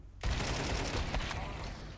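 Gunfire in Counter-Strike 2 bursts in suddenly after a quiet instant, a loud, continuous rattle of rapid shots that holds to the end.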